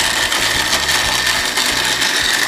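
A food mixture for homemade candies whirs steadily in a blender, a loud continuous motor drone with a faint rhythmic pulsing throughout and no talking.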